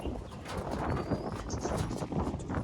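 Pigeons cooing in a home loft setup among other birds, with soft low coos and scattered chirps over a busy, rustling background.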